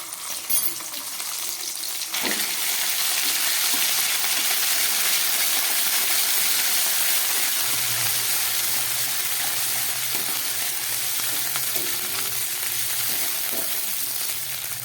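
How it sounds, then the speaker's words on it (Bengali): A paste of ginger, garlic and green chili fries in oil with black cumin and fennel seeds, giving a loud, dense, unbroken sizzle that carries on evenly from start to finish, close by. "মশলাটা একটু ভাজা হয়ে গেছে"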